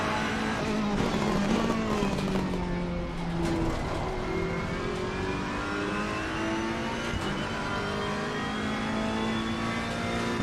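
A race car engine in a racing video game drones loud and continuous, its pitch climbing and dropping through gear changes during an endurance race, with no talk over it.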